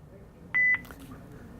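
A phone voicemail system gives a single clean electronic beep as a new greeting begins recording, short and clear over faint room hiss, with nothing else sounding around it.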